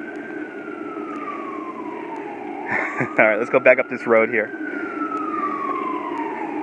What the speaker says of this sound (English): The siren off in the distance is reminding me I'm in the city.